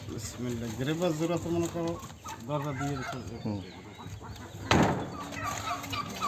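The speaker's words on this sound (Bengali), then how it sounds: "এই যে হচ্ছে সিরাজি এক পেয়ার এইটা হচ্ছে নর মাদি কবুতরটা" Sirazi pigeons settling into a new coop give warbling, throaty cooing calls in repeated bursts close by, with a sharper burst of noise near the end.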